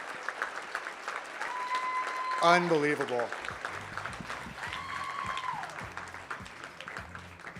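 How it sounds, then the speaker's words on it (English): Audience applause at a medical device demo day, a steady wash of clapping from a seated crowd with a voice calling out briefly over it and talk continuing through. "How about one more round of applause for these amazing entrepreneurs"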